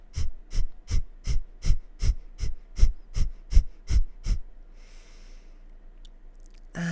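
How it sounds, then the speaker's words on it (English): Rapid rhythmic panting breaths in a yoga breath of fire, about eleven sharp, evenly spaced exhalations over four seconds, close and fairly loud, then quiet breathing and a soft rustle. "Breath of fire is our panting breath."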